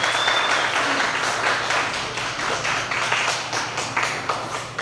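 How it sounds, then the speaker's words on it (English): An audience gives a round of applause for Dr. Bynum, a presenter introduced at a Sunday church service, with steady dense clapping filling the whole stretch at even loudness and no talk over it. "so y'all give her a round of applause."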